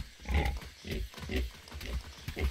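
Pigs in the video game Atlas grunt and oink in a rhythmic series of short, close snorts, about five bursts in quick succession.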